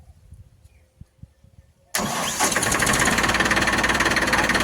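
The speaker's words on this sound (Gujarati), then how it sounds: "તો ગાઈસ આ ટ્રેક્ટર ચાલુ કરીએ જો કઈ રીતના" A tractor engine cranks and catches about two seconds in, jumping from near silence to a loud, steady, rumbling idle that continues to the end.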